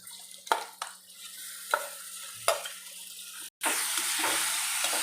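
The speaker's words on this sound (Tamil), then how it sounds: "பெரிய பழம் தக்காளி பழம் இன்னும் நல்லா சுருள வதக்கணும்" A few sharp scrapes of a spoon stirring in a pan, then a steady, loud sizzle of tomatoes sautéing takes over with no talking.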